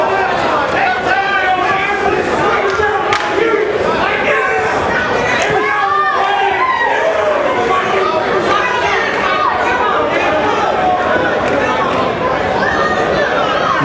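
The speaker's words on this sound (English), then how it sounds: "Nice crowd here tonight at the Plattdeutsch restaurant in Franklin Square, Long Island, New York." Dense crowd chatter filling a boxing event at the Plattdeutsch restaurant in Franklin Square, Long Island, New York, a steady loud babble of many overlapping voices with occasional bumps and thuds.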